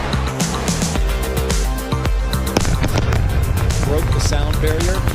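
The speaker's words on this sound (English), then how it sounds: "Just heard the 2 sonic booms here in the room" Sonic booms from a returning SpaceX Falcon 9 booster crack like sharp thunderclaps, several loud bangs rising over continuous excited talking and cheering in a room.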